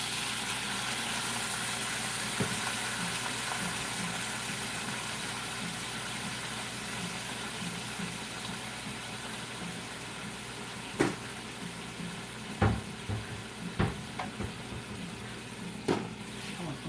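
Water poured into a hot pan of seared pork chops sizzles with a broad, steady hiss, followed by a few sharp clanks and knocks as the lid goes on.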